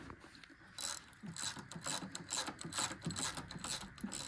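Ratchet socket wrench clicking as it turns counterclockwise to loosen a 5/8 spark plug on a John Deere lawn mower, a run of rapid, close mechanical clicks with no talking.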